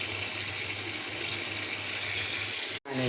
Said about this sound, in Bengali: একটু পানি দিব